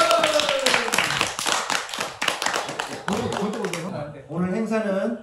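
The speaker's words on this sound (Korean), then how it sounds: "박수." A large family claps together at a Lunar New Year gathering, a burst of quick close hand claps that fades as voices and chatter take over.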